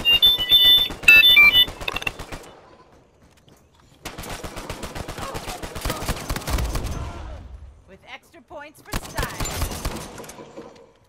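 A mobile phone's electronic ringtone chirps in short repeated pulses at the start, then gives way to loud bursts of rapid video-game gunfire in an Uncharted 4 match, with gaps of near silence between them.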